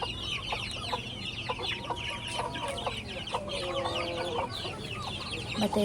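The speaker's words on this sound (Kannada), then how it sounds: "ಮತ್ತೆ ಇವರ ಮನೆಯಲ್ಲಿ ಕೋಳಿ ಸಹ ಸಾಕಿದ್ದಾರೆ." Domestic chickens kept at a rural family home cluck repeatedly in short, uneven bursts, close by, with a faint crow mixed in and steady background noise.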